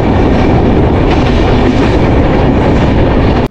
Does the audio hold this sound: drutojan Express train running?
yes